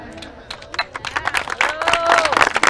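Crowd applauding and cheering at the opening ceremony of a national under-18 women's championship in Cochabamba, Bolivia, steady clapping building in loudness under a busy hubbub, with an announcer's voice over it.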